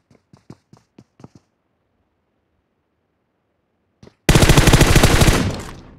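Gunfire in BGMI, a mobile battle royale game: a quick run of about seven sharp single shots, a pause, then a sustained loud burst of rapid automatic fire that tapers off.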